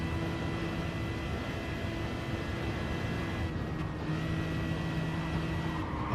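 A race car engine from a racing video game drones steadily around the Nordschleife, holding a sustained high-revving tone with small pitch shifts. The sound stays loud and continuous, with no talk over it.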